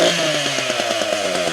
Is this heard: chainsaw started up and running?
yes